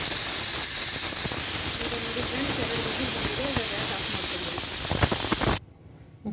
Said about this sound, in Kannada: ಈಗ ಕುಕ್ಕರ್ಗೆ ಕ್ಯಾಪ್ ಹಾಕ್ಬಿಟ್ಟು 1-2 ವಿಸಿಲ್ ಕೂಗಿಸ್ಕೊಳ್ಳಿ